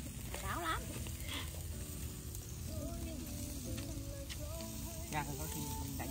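Squid pieces frying in a pan, a soft steady sizzle with occasional stirring scrapes, fairly quiet and close, while people chatter over it.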